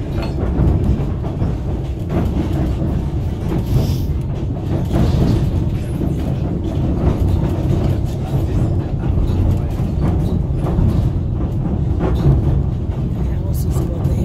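The White Pass and Yukon Railway train rolls steadily near Skagway, Alaska, with a continuous low rumble and faint rhythmic clatter of the rail cars from on board, while a guide's voice talks over it throughout.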